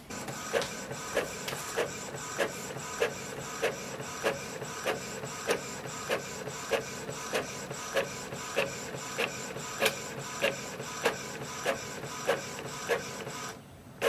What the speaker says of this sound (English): So this way we can do the wireless printing with this printer.